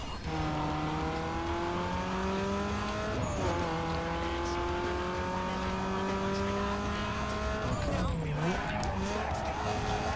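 A Mazda Miata in Need for Speed Underground 2 races through a drift event. Its engine drones steadily and shifts pitch through gear changes, tires squeal through the corners, and a game soundtrack plays underneath.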